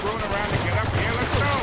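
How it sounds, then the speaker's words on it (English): Rapid bursts of gunfire crackle in quick succession in the video game Uncharted 2: Among Thieves Remastered, dense and continuous, with a low steady hum underneath. "Gunfire"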